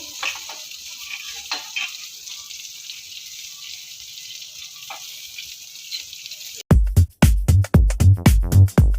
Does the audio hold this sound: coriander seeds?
yes